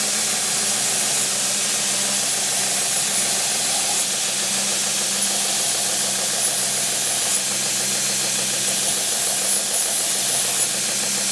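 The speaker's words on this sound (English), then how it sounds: "I'm going to use this contact wheel to polish that back edge of the blade" A grinder's contact wheel polishes the back edge of a curved travisher blade, giving a steady, continuous motor whir and hiss that holds at an even level throughout with no pauses.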